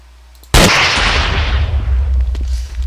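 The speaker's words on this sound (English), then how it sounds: "It blows them to oblivion." An admin artillery cannon in a zombie survival video game fires once with a sharp, loud blast, then a heavy rumbling roar trails off over the next couple of seconds.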